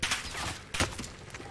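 Gunfire in Call of Duty: Modern Warfare multiplayer, a few quick bursts of shots with a sharp louder volley midway, fairly faint and heard alone without talk.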